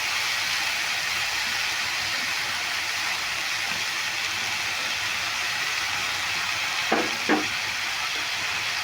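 Potatoes and carrots fry in a pan with white sesame seeds, giving a steady, close sizzle throughout, broken near the end by two brief knocks of a utensil against the pan. No one speaks.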